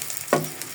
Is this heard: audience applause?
no